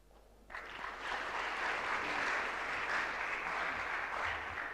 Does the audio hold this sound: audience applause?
yes